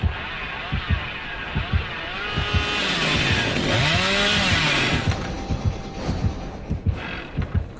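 A chainsaw revs in the video game Dead by Daylight, a loud, continuous buzzing drone that rises and falls, with rhythmic thumping heartbeat pulses underneath.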